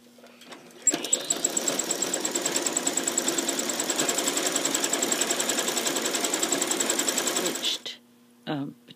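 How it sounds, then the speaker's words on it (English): Sewing machine stitching a thread-painted blossom scallop in yellow thread, a rapid steady stitching clatter for about seven seconds before stopping, with a brief voice at the end. "then overstitch some on the green and overstitch some on the pink"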